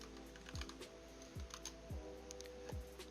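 Computer keyboard keys tapped in a quiet room, a few soft, evenly spaced clicks over a faint steady background hum.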